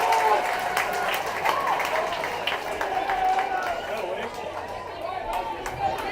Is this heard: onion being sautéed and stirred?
no